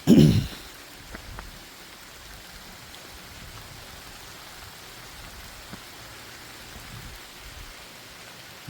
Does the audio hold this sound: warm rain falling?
yes